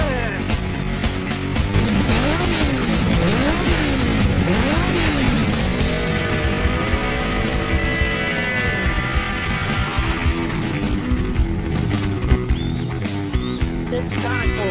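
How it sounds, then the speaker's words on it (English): An engine revs loudly, its pitch repeatedly sweeping up and down in quick bursts, then settles into a steadier roar over continuous background sound. "rev up your engine!"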